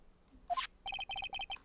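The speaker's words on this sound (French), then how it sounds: "Ce n'est pas mon téléphone qui vient de sonner, mais le vôtre." Mobile phone ringtone from the Ace Attorney video game: a brief rising chime, then a series of quick, bright electronic trills in repeating groups of two or three beeps, loud and clear with no talking.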